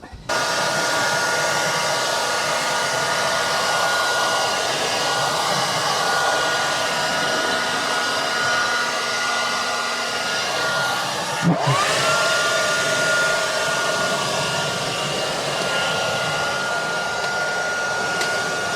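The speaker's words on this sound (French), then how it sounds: "on va mettre un petit coup de sèche-cheveux et appuyer pour bien que la colle prenne." A hair dryer, used to set glue on a Tesla Model 3, blows loudly and steadily with a constant whine and airy roar, its pitch shifting briefly once partway through.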